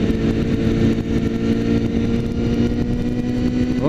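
Suzuki GSX650F motorcycle engine running steadily at speed, a loud continuous mid-pitched drone with harmonic whine that rises slightly at the end, close to the rider with no talk.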